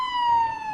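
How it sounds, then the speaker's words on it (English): A police siren sound effect with a loud, steady electronic wail holding one sustained pitch in the foreground, with no voices. "Running the sirens. Let's see if the sirens will help us out here today."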